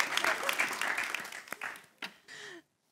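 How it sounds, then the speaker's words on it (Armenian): Audience applause at an evening show, a brief burst of clapping mixed with voices that thins out and stops after about two and a half seconds. "Ծափարեք։"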